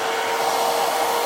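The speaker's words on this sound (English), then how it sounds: "We're going to use the hair dryer." A hair dryer, used during a makeup session to blow loose fibers off, blows with a steady, loud whooshing roar close by, unbroken throughout.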